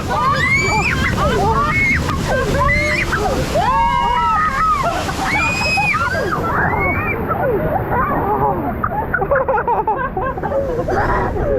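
Water splashes and sloshes on a theme park waterfall ride at Terra Mitica in Benidorm, a close, churning wash mixed with excited voices and chatter, the splashing heaviest in the first half.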